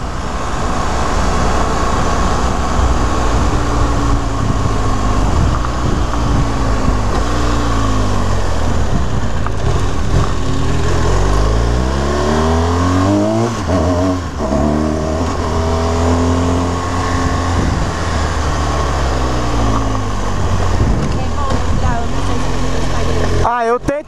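A BMW 1200 motorcycle engine roars continuously while riding at speed, revving up and down with rising and falling pitch, loud and close with constant wind rush.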